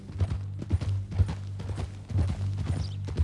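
Horse hooves clip-clop in a steady walking rhythm in the Red Dead Redemption 2 video game, close and fairly loud with a low drone underneath.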